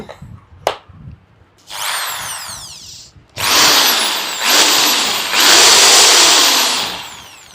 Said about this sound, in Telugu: ఒక్కొక్క మిషన్ తీసుకొని ఏ విధంగా పర్ఫామ్ చేస్తాయో చూద్దాం ఫస్ట్ డ్రిల్లింగ్ మిషన్